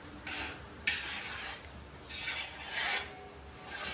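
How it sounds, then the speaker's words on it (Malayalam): Food is stirred and roasted in a bronze uruli pot, with repeated scraping, rasping strokes of a utensil against the metal in uneven bursts, close and moderately loud, with a faint sizzle underneath and no talk. "ഇനി എടുക്കാണ്ട് ഇളക്കി ഇളക്കി നല്ല വരട്ടി എടുക്കാം"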